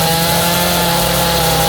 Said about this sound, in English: this guy with a chainsaw came from behind and gave Dwight the nastiest backstab I've ever seen